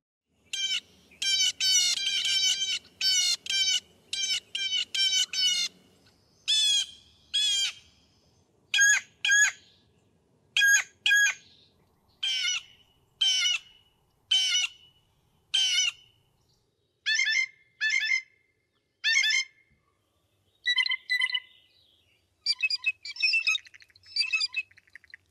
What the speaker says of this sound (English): So this is what blue jays sound like.